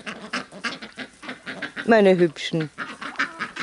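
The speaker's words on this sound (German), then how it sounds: "Und die Enten, die laufen mir ja überall nach." Ducks following a person around a yard, giving a few short quacks close by in between a woman's chatter.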